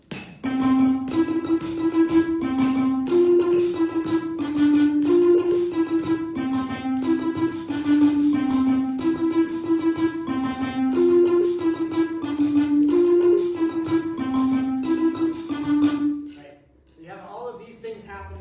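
Bright plucked metallic tones of a Zimbabwean mbira repeat in quick interlocking patterns, a steady cycling melody over a low pulse, played alone and close.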